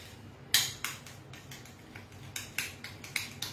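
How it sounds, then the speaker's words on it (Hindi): Food being stirred in a bowl with mixed herb spices, heard as a run of sharp spoon-on-bowl clinks and taps in an uneven rhythm, close and fairly faint over a low room hum. "मैं डालूंगी थोड़ा सा मिक्स्ड हर्ब स्पाइसेस और इसको करेंगे अच्छे से मिक्स"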